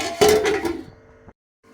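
A lid is set onto a cooking pot of chicken palak, a single metallic clank with a short ringing tail that fades out within about a second.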